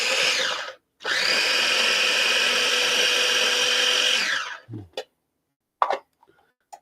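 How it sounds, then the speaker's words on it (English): Food processor chopping garlic and onion into tiny bits, a loud whirring motor burst after a brief first pulse, running about three seconds before winding down, followed by short clatters and knocks. "So garlic, onion, using the food processor so I can get teeny tiny bits."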